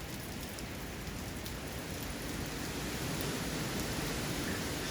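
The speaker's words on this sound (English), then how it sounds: "Rain has slowed down some." Steady rain from Hurricane Delta falling in Central Louisiana, a dense continuous hiss of drops on surfaces with a low rumbling wash, constant and even throughout with no voices.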